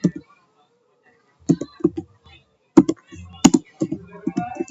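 Keys clacking on a computer keyboard as a sudo command is entered on a server over SSH, heard in short clustered bursts mixed with talking.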